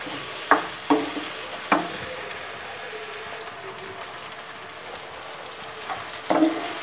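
Onions fry in a pot as they turn light brown, giving a soft steady sizzle broken by a few sharp clicks of stirring and a clatter near the end; no one speaks.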